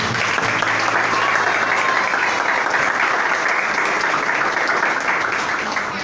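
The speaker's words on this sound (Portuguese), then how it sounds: "Aplauda o nome do Senhor." Church congregation applauding in a worship service, a dense steady wash of many hands clapping together at close range, sustained at full loudness throughout with no speech over it.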